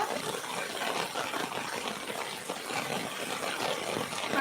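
Heavy rain pours down in a storm, a steady dense hiss of falling water and splashing with no letup, fairly soft and even throughout.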